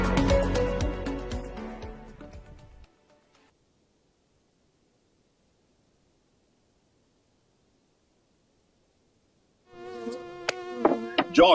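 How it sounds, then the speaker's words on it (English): A mosquito buzzes as a steady, thin high whine, close and loud at first. It falls away into a long silence and then returns near the end, part of an advertisement for a mosquito repellent. "why are you still suffering from mosquito wahala?"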